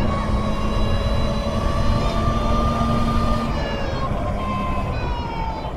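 Energica high-performance electric motorcycle motor giving off a steady, loud whine with sustained tonal lines, continuous throughout and slightly easing toward the end, with no talking.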